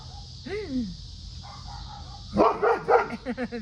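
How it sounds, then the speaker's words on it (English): A dog barks a few times at a distance, followed by a burst of closer, higher yips and whines. "You hear another dog out."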